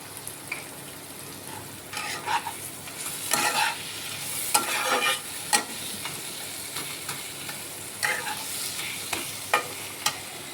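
Spices frying in a pan on a lowered gas flame, a steady sizzle broken by repeated scraping and clinking bursts of stirring, fairly close, with no talking.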